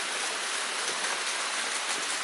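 Waterfall in the San Gabriel Mountains near an old gold mine: a steady, broad rushing hiss of falling water, constant and close, with no voices.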